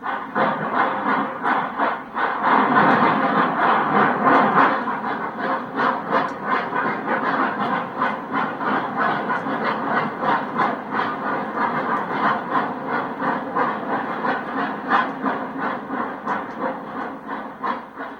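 A steam locomotive, a Norfolk and Western Y6b articulated engine, rumbles steadily along with rhythmic chugging and clattering, loud and continuous throughout, no voices.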